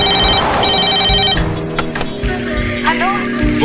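Telephone ringing in a chief minister's office: a steady electronic ring with sustained tones through the first second and a half, then mixed room noise and voices.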